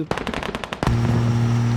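Gunfire in the tactical shooter game Squad: a quick run of about eight sharp automatic shots, then a final louder blast that leaves a sustained ringing tone.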